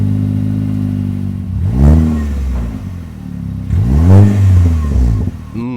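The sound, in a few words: Nissan Juke revving with performance exhaust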